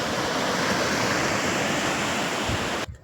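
Sea waves wash in a broad, steady roar of rushing surf that holds at an even loudness, then cuts off abruptly at the end; no voices are heard.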